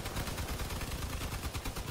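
Vehicle-mounted guns fire in the vehicle combat game Crossout, a rapid, dense stream of shots repeating without pause, heard fairly faint and distant throughout the short stretch.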